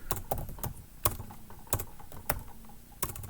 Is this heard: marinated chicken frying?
no